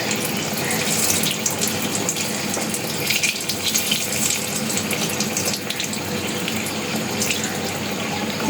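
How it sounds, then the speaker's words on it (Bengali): Puris frying one at a time in hot oil, giving a steady, dense sizzling hiss that stays fairly loud and continuous throughout, with no talking. "একটা একটা করে পুরি ভেজে নিচ্ছি যাতে তেলের অপচয় না হয়"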